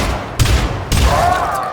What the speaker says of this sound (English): if your game has a shotgun, it should sound the most powerful out of all the weapons, not the weakest